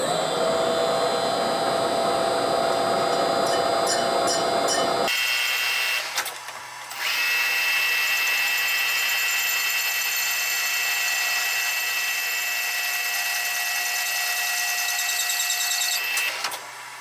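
A metal lathe cuts the back edge of a thin Mustang engine pulley, making a loud, steady, high-pitched machining whine that drops out briefly after about five seconds and then resumes and holds; no one speaks.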